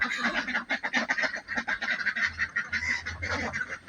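Ducks quack in a rapid, continuous chorus, a flock close by calling over one another.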